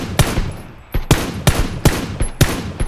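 Bursts of gunfire from PUBG ring out in quick, irregular shots, several sharp cracks spaced across a few seconds, loud and close with short decays between them.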